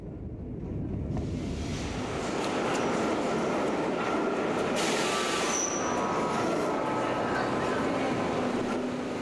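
A Berlin U-Bahn subway train runs underground toward Potsdamer Platz on the old Line A, a loud, continuous rumbling roar with wheel noise and a brief high squeal, a voice talking over it.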